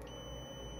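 A multimeter in diode test mode gives a steady, faint electronic beep that holds unchanged for under a second, alone with no talk.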